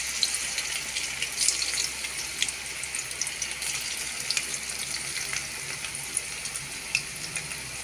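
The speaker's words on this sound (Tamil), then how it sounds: "இது நல்லா ஃப்ரை ஆகட்டுங்க" Bitter gourd coated in masala fries in a pan with curry leaves, giving a soft, steady sizzle with small crackles and pops, fairly quiet and without talking.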